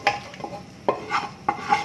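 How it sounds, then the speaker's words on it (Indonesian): A metal spoon scrapes and knocks in a pot as ground spice paste for Soto Bandung is stirred into hot oil, with several clinking strokes and a soft sizzle underneath, close and steady, no talk. "Bumbu halusnya langsung dimasukkan ke panci nggih."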